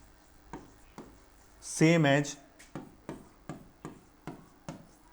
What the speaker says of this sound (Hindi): यहां पे मैं लिख रहा हूं इलेक्ट्रॉनिक करंट